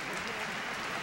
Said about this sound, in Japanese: のファンから惜しみない拍手